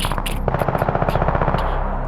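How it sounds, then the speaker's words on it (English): Rapid bursts of automatic gunfire rattle in quick succession from below, loud and continuous for about two seconds. "You can hear some gunfire"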